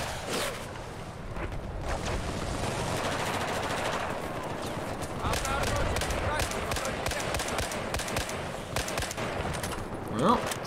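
Gunfire from a SCAR rifle set to single fire in Battlefield 4, a run of sharp shots and bursts over continuous battle noise, with a voice talking over parts of it.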